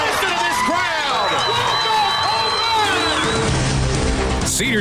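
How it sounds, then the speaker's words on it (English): High school baseball crowd at a Cedartown Bulldogs game roaring and cheering loudly and steadily after a deep home run to left field, a dense wall of voices and whistles with a shout rising near the end. "Listen to this crowd."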